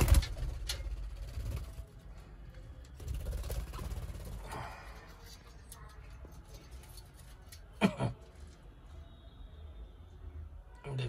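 Pigeons kept for sale coo close by, with bird calls, rustling and some human vocal sounds mixed in around them.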